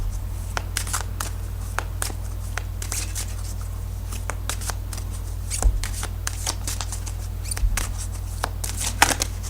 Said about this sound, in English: So I'll just go ahead and start shuffling here.